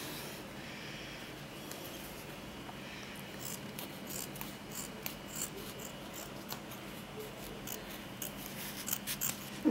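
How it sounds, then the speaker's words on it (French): Small scissors snipping cotton into little squares, a series of quiet close-up cuts and rubbing sounds over a low steady background. "Donc, je coupe des petits carrés."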